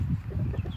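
Chickens on a small farm flock of hens and roosters cluck in low, steady murmurs, close by and continuous with soft scratchy overlaps, no talking.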